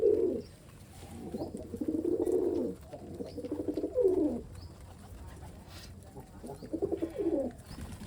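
Pigeons at a pigeon farm coo in low, throaty rolling phrases, several overlapping bouts of a second or two each, close and fairly clear against a quiet background.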